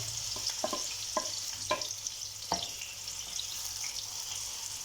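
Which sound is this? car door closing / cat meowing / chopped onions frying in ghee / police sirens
chopped onions frying in ghee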